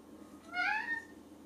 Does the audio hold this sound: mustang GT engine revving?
no